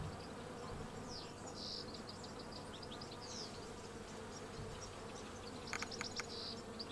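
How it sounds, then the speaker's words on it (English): Bees buzzing in the hive-building video game Hive Time, a continuous dense insect drone at low volume with faint chirps and clicks layered over it, steady throughout with no talk. "It's nice to watch the little bees bumble around and do their thing."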